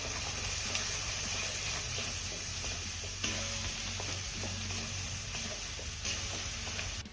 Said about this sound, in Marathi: यामध्ये आपल्याला तयार केलेलं वाटण घालायचं आहे तेलामध्ये छान असं मिक्स करून घ्यायचं आहे